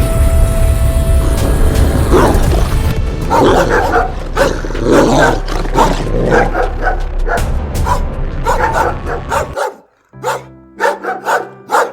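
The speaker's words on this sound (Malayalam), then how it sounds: "അകത്ത് നല്ല മൊട്ടൻ നായ്ക്കളുണ്ട്" Big dogs bark inside a house in loud, close, repeated bursts that come in quick clusters, with a short lull before a few more barks near the end.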